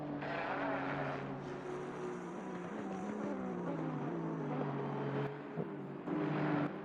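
Ferrari race cars in a sim racing endurance event at Zolder, engines droning and shifting pitch steadily over several seconds, a continuous mid-level motor whine with gear changes near the end.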